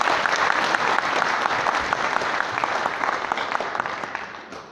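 Sustained applause from a large audience at a 2016 graduation ceremony in a convention hall, a dense, even wash of clapping that fades slightly toward the end.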